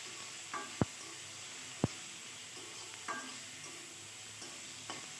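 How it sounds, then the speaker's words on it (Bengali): Tomato with turmeric stirred in a frying pan, a faint steady sizzle with a few sharp utensil scrapes and knocks against the pan. "এখন নেড়ে চেড়ে ঢাকা দিয়ে টমেটোটা নরম করে নেব"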